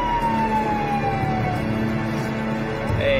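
A wailing siren sweeps steadily over a rumbling engine, loud and close, its pitch gliding down and then rising again near the end.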